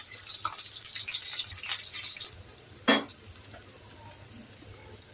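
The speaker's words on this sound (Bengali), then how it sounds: "দিয়ে দিচ্ছি পেঁয়াজ কুচি কাঁচামরিচ" Chopped onion and green chilies hit a hot pan for a pumpkin fry, giving a bright sizzle for about two seconds. It drops to a quiet simmer, followed by a single sharp metallic clank and a few small taps.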